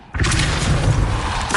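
Bombarda explosion spell cast in Hogwarts Legacy, a deep booming blast that hits hard and rolls on in a sustained rumble, with a brief flare near the end.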